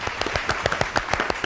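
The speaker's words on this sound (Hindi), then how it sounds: "तो तालियां।" Studio audience applause on a Hindi-language talk show, a quick burst of scattered, uneven handclaps from a modest crowd, fairly close, with no talk over it.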